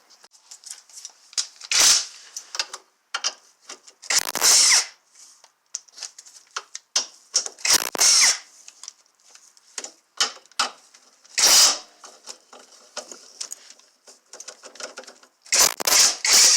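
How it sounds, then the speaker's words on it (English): Bolts come off the lower control arm of a 2006 Toyota Prius with bursts of bright ratcheting and rapid clicking at close range, broken by short pauses and small metallic taps. "I'm going to take the bolts on the lower control arm off"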